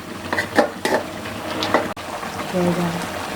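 A spoon or masher presses cooked tomatoes into paste in a pot, giving soft scraping knocks and clinks against the metal beside a gentle simmer, with a voice speaking over part of it.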